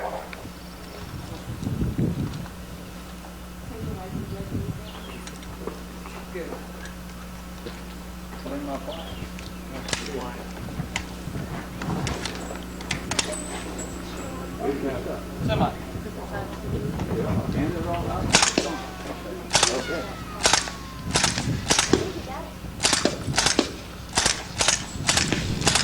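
Gunshots from rifles firing subsonic ammunition at an outdoor shooting range, with scattered reports early on and then a quicker run of sharp cracks toward the end, heard amid wind noise and background talk.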